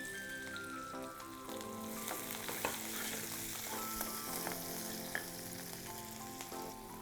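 Chopped onions fry with cumin seeds and crushed coriander in hot oil, a steady close sizzle with occasional stirring clinks and pops running throughout, no voices.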